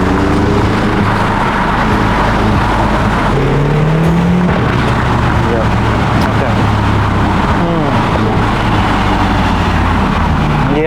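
A BMW X5M's engine revs hard under acceleration, a loud sustained roar with rising pitch sweeps as the revs climb, heard up close from inside the car for several seconds.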